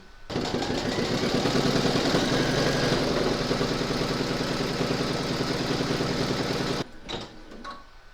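Embroidery machine stitching a shamrock pot holder, running with a loud, steady mechanical whir and rapid rhythmic clatter before stopping abruptly, followed by a few faint handling sounds.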